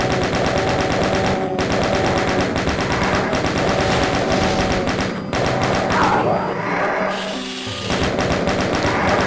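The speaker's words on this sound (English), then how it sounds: "I'm using the chain gun rather than the super shotgun" The chain gun in Doom fires a dense, rapid stream of loud, close gunshots with thumps and other game sounds mixed in, and the fire is briefly interrupted midway.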